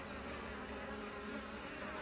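Honeybees buzzing around a hive with drones pushed outside during a food shortage, a steady, dense hum of many insects, faint and continuous with no voices.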